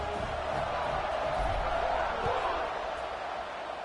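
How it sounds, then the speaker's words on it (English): A stadium crowd at a college football game between Oregon and Penn State buzzes steadily after a score, a broad, continuous roar heard at a distance for a few seconds. "this crowd is buzzing after that last score"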